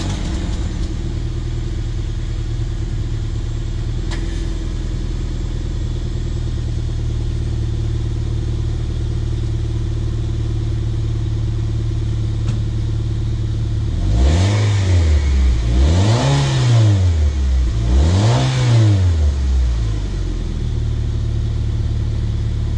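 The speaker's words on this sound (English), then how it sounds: "we're going to listen to a cold start, if you can call it that, clip" A car engine on a cold start idles with a steady low hum, then revs up three times in quick succession, each rise and fall clearly audible, before settling back to idle.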